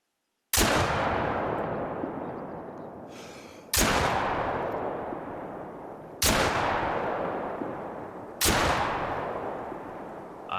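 Four loud buckshot blasts from the Greleck Drilling Rifle in theHunter: Call of the Wild, each sharp report trailing off into a long echoing decay, spaced a few seconds apart.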